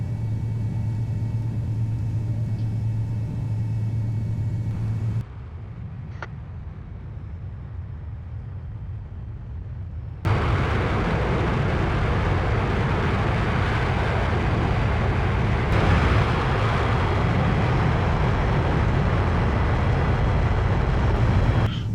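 An American Airlines MD-80 taxis out from the ramp in a flight simulator, a steady low cockpit rumble that drops quieter partway through and then returns louder and fuller for the rest.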